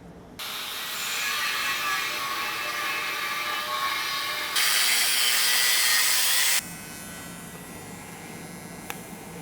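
A grinder cuts into a metal exhaust mid pipe with a loud, harsh, high whine that runs for about six seconds, briefly grows harsher, then cuts off and leaves a low hum.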